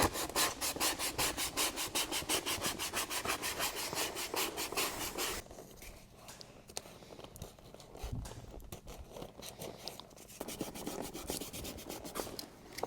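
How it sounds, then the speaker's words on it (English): Rapid rhythmic rubbing of sandpaper on leather, sanding off the surface grain, a steady scratchy back-and-forth that pauses and resumes with slower, irregular strokes. "sanding off the surface grain layer of this leather"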